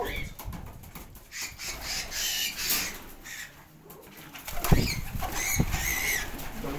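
Pigeons in a loft, with soft cooing and repeated bursts of flapping wings close by, fluttering in and out over a constant background of bird noise.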